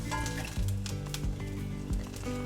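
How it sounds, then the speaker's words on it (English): Tortilla sizzling and frying in a pan while being flipped for birria tacos, a steady close crackle with a few soft thuds from the turn. "We're going to go ahead and flip the tortilla"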